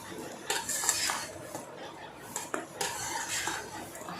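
A spoon stirring tamarind rice in a metal pot, giving soft, close scraping and clinking scrapes at an irregular pace over a quiet background.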